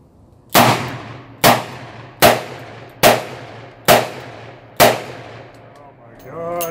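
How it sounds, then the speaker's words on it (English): A Smith & Wesson Model 19 revolver fires six .357 Magnum rounds at an outdoor range, six loud sharp shots evenly spaced under a second apart, each with a ringing decay, followed by brief talk. "I'm gonna do 6 rounds, 357. Quickly reload as fast as I can and do another 6 rounds on the second one."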